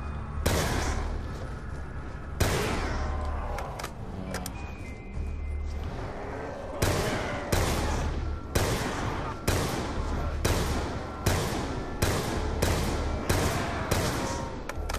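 Wall-bought weapon gunfire in Black Ops 2 Zombies, a dozen or so loud single shots and short bursts fired at an uneven pace over a constant low game drone, with brief quieter gaps between them.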